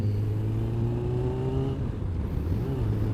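Motorcycle engine heard while riding, a steady loud drone whose pitch holds and then drops and climbs again as gears shift, under rushing wind noise.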